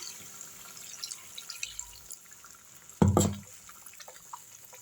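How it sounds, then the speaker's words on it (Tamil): After quiet background, tamarind water is poured in one quick splash into a pan of ground masala for brinjal curry, lasting under a second before the quiet returns. "இந்த புளி தண்ணி எடுத்து ஊற்றிக்கலாம்"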